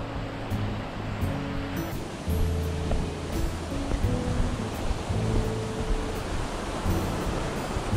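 Marugami Falls, one of Japan's top hundred waterfalls in Saitama, pours in a steady, dense rush of water that holds at an even level throughout, with a slight surge in volume a couple of seconds in.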